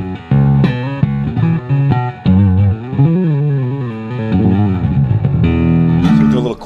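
A bass guitar runs through an EBS Billy Sheehan Signature Drive pedal with the clean signal blended back in, playing loud, sustained notes and slides with a gritty distorted edge and no talking.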